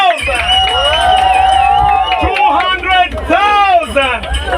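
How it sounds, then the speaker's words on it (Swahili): A crowd cheers and shouts loudly at a cash prize handover of a million Kenya shillings, with an excited voice calling out over the lively, sustained noise. "Nataka tumpigie Samido makofi akimkabidhi"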